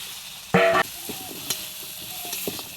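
Chopped potatoes with turmeric, salt and chili powder sizzle steadily in a pan for a village-style fish dish. A brief ringing clatter breaks in early, followed by light scrapes and taps of stirring.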